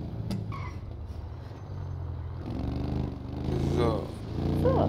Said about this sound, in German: Hier im Tunnel hat der Abschlepper einen ganz schön krassen Sound.